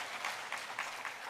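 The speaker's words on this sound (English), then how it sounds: "A lot of applause." Steady crowd applause at a political rally in Mombasa, a dense wash of clapping with faint swells of cheering, moderately distant and continuous throughout.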